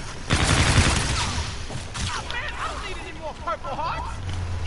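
Bursts of rapid gunfire from Call of Duty: Infinite Warfare Zombies, heaviest in the first seconds and then in scattered volleys, with a person talking over the game sounds.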